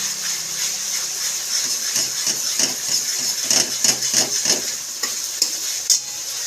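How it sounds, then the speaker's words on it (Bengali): Poppy seed paste is stir-fried in a pan, with close rhythmic scraping strokes of a spoon over a steady sizzle and no talking. "পোস্ত বাটাটা দিয়েও কষাতে থাকবো।"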